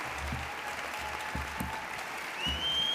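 A board meeting audience gives a round of applause to the 2016 Spotlight teachers, steady clapping from a crowd in a hall, moderately loud and continuous.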